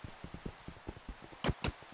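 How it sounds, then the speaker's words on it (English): Rain falling in the video game Minecraft, a soft steady patter with scattered quiet drop ticks and two brighter splashy hits near the end, heard alone. "The rain's definitely not helping, though."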